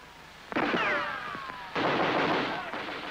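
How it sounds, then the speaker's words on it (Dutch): Gunfire from German snipers on the streets of Paris during the liberation, two loud sharp reports with long echoing decay. "maar schoten weer klonken."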